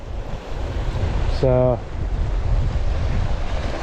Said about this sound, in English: there's a lot of white horses and there's I think it's a northeasterly wind